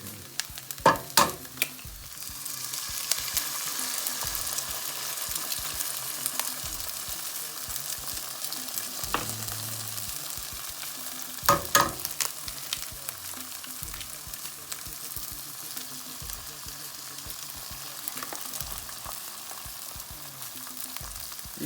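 Hotdogs and eggs frying in a pan, a steady close sizzle broken by occasional sharp scrapes and clatters as the food is stirred.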